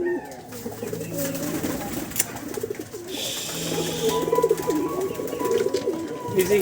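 Pet pigeons in a home loft where several birds have been falling ill and dying coo repeatedly up close, with low rolling calls overlapping one another throughout.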